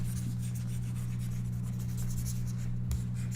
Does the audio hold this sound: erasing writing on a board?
yes